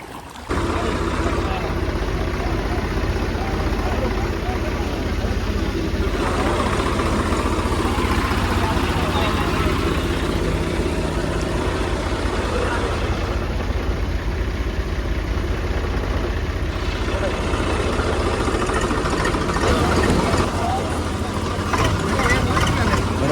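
A tractor engine runs steadily as it moves through floodwater beside the Ravi river in Punjab, a continuous loud, low rumble lasting throughout, with voices heard over it.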